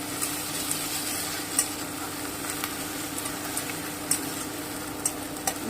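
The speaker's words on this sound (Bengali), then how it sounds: "হালকা করে একটু ভেজে নেব" A spoonful of ginger paste fries lightly in an eggplant dish, giving a constant close crackling sizzle with a faint low hum beneath and occasional soft taps of a utensil.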